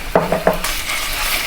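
Ginger frying in a pan while being stirred: three quick scraping strokes of a spoon against the pan, then a steady, close sizzle of hot oil carrying on alone.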